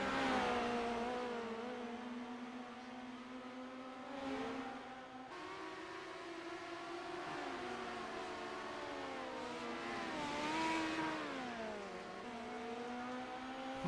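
Midget racing cars in a sim racing game at USA International Speedway, engines droning steadily with rising and falling revs as several cars run the track, continuous and fairly loud with no talk.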